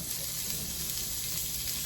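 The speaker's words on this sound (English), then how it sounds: "now we're gonna get this in the pan because the pan is nice and hot. Sizzle, sizzle." Steady, loud crackling sizzle of whole branzino frying in a hot pan, continuous and close with no talking.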